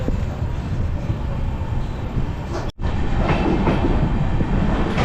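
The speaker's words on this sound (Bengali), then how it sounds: "নৈহাটি স্টেশন থেকে আমাদের ট্রেন ছেড়ে দিল।" Sairang Express pulls out of Naihati station at night, its carriages rumbling loud and close with a steady rolling roar and faint clattering of wheels, briefly interrupted by a momentary gap.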